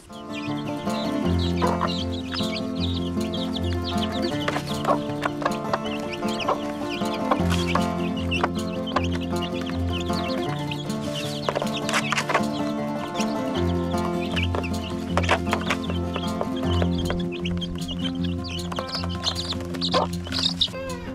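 Chickens and young chicks clucking together in a backyard coop, a steady overlapping chorus of clucks and calls that runs continuously at moderate loudness without speech.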